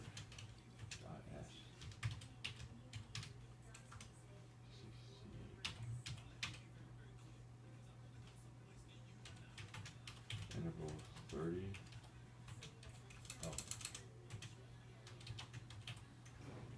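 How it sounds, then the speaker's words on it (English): Fast bursts of keystrokes on a computer keyboard, close and crisp, with pauses, a steady low hum and a few quiet spoken words. "I was typing out the command"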